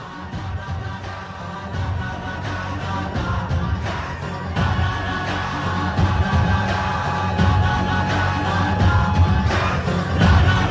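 Crowd at a Mahayuti political rally applauding the dabbawalas, a dense, steady wash of clapping and cheering that holds loud for the whole stretch.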